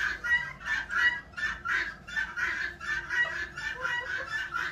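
Several hens cluck on a farm in a quick, rhythmic series of close, fairly loud bursts with short pauses between them, and no one speaks.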